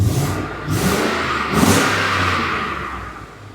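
A 2014 Ford F-150 with the Coyote 5.0L V8, checked after a bank 1 cylinder misfire repair, revs up in two sharp, loud blips close by, then settles back toward a smooth idle.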